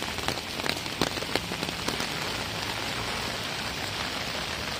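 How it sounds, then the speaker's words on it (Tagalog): Heavy typhoon rain pours down steadily in a dense, hissing wash on a Macau street, with scattered louder drops striking a surface close by. "ang lakas ng ulan ko talaga"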